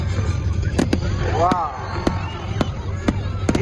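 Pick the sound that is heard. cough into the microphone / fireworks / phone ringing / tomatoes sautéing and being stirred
fireworks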